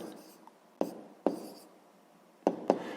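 Pen or chalk writing out fractions for a sixth-grade math answer: a handful of short scratchy strokes and taps spaced irregularly, close and fairly quiet, with soft pauses between marks.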